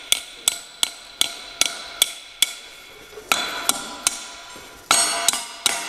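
Hammer blows knocking a ring gear off a flywheel: a dozen sharp, ringing metallic strikes at a steady beat, close and loud, with no talking.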